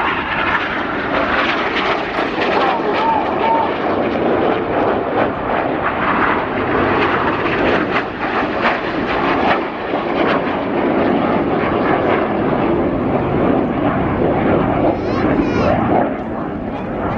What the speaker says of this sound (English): the synchro pair dive down to 100 feet for their final pass